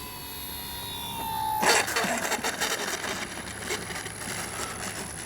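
An FMS CJ-6 V2 radio-controlled warbird model airplane on its maiden flight, coming in to land with gear and flaps down. A thin tone cuts off into a close, rough engine roar that holds steady with slight fluctuations.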